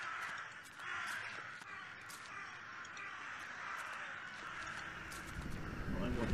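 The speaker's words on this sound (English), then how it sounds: "That's the birds." Ambient bird sounds with crows cawing in a foggy outdoor scene of The Last Door horror adventure game, a steady layered bed of calls over wind-like background noise, moderately loud throughout and swelling near the end.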